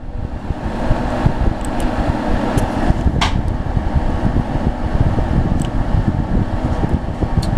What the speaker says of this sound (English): I made this contraption to blow some air in there until I get a proper fan.